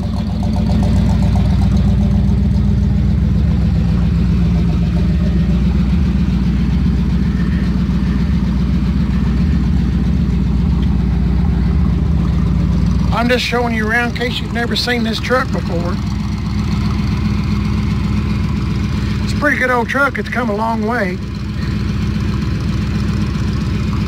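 A 1978 Chevy C10 pickup idles after a cold start, a steady low rumble running continuously up close while someone talks over it, with a couple of brief higher chirping sounds partway through.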